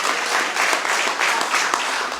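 Delegates at an annual savings cooperative meeting in Nairobi applauding, a sustained dense wash of many hands clapping in a hall, without speech.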